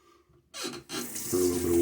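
Tap water running into a sink during a wet shave with a Badger brush and Løthur soap, starting abruptly after a brief quiet moment and flowing steadily and fairly close.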